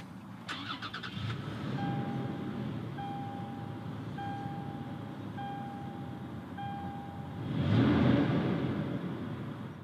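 A 2018 Toyota 4Runner TRD Pro engine starts, with a quick starter whir followed by a steady idle. A chime beeps at regular intervals, and near the end the engine swells louder before it settles.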